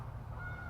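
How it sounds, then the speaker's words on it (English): Geese honk on an open field, a short burst of overlapping calls from a flock heard at moderate distance over a steady low rumble. "There's a bunch of geese out there."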